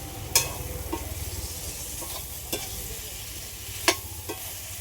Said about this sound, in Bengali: এবার ভেজে রাখা চিকেনগুলো দিয়ে দিই। সবগুলো একসাথে এইভাবে একটু নাড়িয়ে নিই।